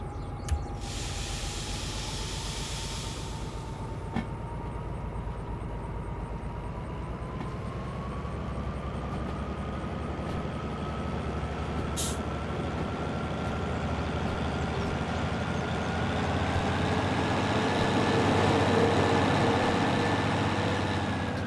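A DH4 locomotive in the Derail Valley video game pulls away, its engine a steady, heavy rumble with a whine that climbs gradually in pitch as it accelerates, continuous and close, with a brief hiss near the start and no talking.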